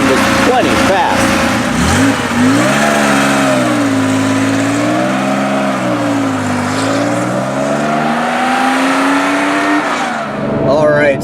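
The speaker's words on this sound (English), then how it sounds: "All right, so driving the 911." A 1971 Porsche 911 E engine while driving, a steady mid-pitched drone that rises and falls with the throttle through the whole stretch, loud and close, with the driver's voice speaking over it.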